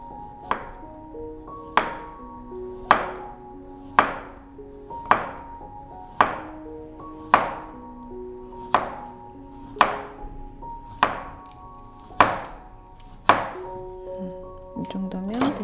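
A knife chops through cucumber against a cutting board in twelve evenly spaced, crisp thunks that ring slightly, each one distinct and close, with nothing else heard.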